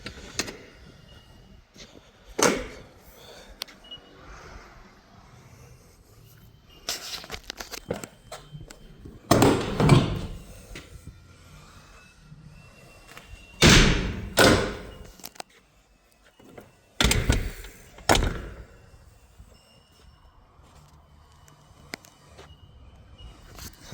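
Internal door locks and doors on a Pantech truck body being worked, giving a series of separate thuds, clunks and slams spread over the span, some close and loud, with quieter handling noises between.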